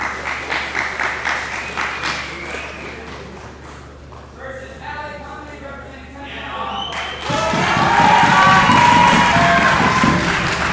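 Crowd noise rises for a hometown 10th Planet Lombard grappling fighter at a Midwest Finishers submission event, swelling into loud, sustained cheering and applause in the final seconds after quieter murmuring and an announcer's voice.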